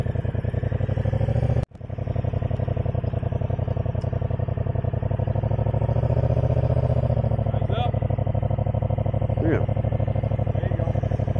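An old Honda Gold Wing motorcycle during rider training gives a steady, close engine drone as it pulls away at constant throttle, with a brief dip near the start.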